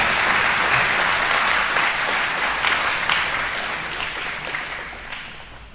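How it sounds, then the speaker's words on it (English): Audience applause at an Eagle Scout recognition night, a dense, steady wash of clapping from many hands that holds strong and then gradually fades over several seconds. "Big round of applause for these guys,"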